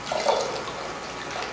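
Juice being poured through a sieve while making wheatgrass and parsley juice, a soft steady trickle of liquid running for about a second and a half, fairly faint and continuous, with no talking.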